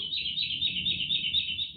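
A continuous, high-pitched bird trill with rapid chirps at Uzungöl, Turkey, runs unbroken for a couple of seconds over a faint low background.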